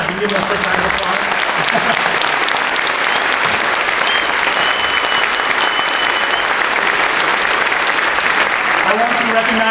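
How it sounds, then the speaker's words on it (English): An audience at a spring high school choir concert gives the senior singers sustained, loud applause, a dense wash of clapping that holds steady throughout with some voices mixed in. "give them a quick round of applause"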